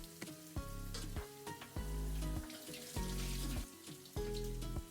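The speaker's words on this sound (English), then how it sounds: "I added the sounds of me cooking" Vegetables seasoned with Maggi and a little salt sizzle steadily in a pan, with several loud bursts of stirring and scraping breaking the frying hiss, close and without talk.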